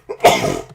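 A single sharp sneeze, a short breathy intake followed by a loud burst that tails off over under a second, close to the microphone.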